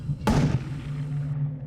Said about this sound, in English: the pill finally pops